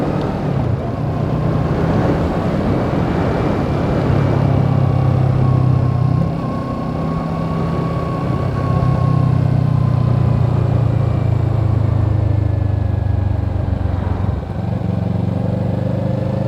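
A Kawasaki Z650 roadster hums steadily along a road during a short test ride, its mid-pitched engine droning continuously with slight shifts in revs and wind noise, close and fairly loud.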